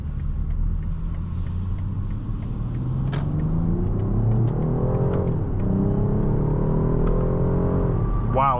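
A 2026 BMW 550e xDrive accelerates with a steady, smooth engine rumble and rising whir, heard from inside the cabin without talk.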